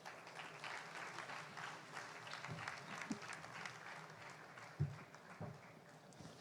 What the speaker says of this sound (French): demander à Alain Dufoux, président du SNPI, de me rejoindre sur scène sous vos applaudissements, s'il vous plaît.